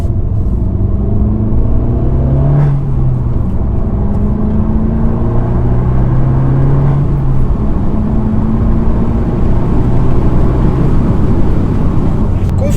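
A Fiat 595 Competizione with an Akrapovic exhaust hums and rumbles up close, its exhaust note rising and falling with gear changes and revs, no voices over it.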